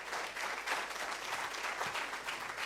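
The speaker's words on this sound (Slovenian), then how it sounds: "gotovo aplavz za to ustvarjalno" An audience applauds at a cultural evening in a hall, a dense, steady clapping that holds at even loudness for the whole stretch with no voices over it.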